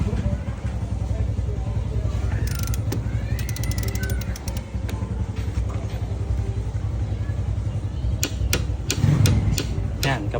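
A torque wrench tightens the ball race lock nut on a Honda Click 125 scooter, giving bursts of sharp ratcheting clicks near the start and end over a steady low hum, with someone talking through much of it.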